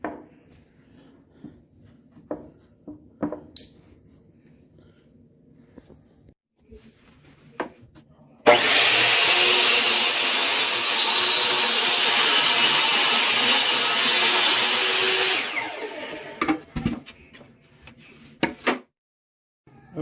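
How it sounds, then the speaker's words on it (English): A power saw cuts through a 9 1/4 inch wooden window casing board in one sustained, loud whine lasting several seconds, preceded and followed by quieter handling knocks and clicks. "that laser is right where my blade will cut"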